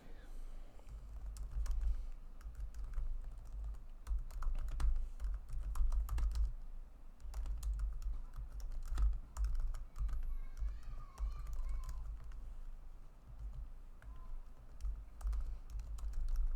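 Someone types on a computer keyboard in a steady run of close, crisp key clicks over about sixteen seconds, with irregular bursts and short pauses against a low background rumble.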